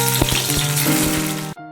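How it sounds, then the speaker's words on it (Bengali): Sliced potatoes fry in a pan with salt and turmeric, giving a loud, steady sizzle with a few light scrapes before it cuts off abruptly near the end. "এখন আলুগুলোকে নুন হলুদ দিয়ে হালকা করে ভেজে নেব। এদিকে আলু তো ভাজা হচ্ছে"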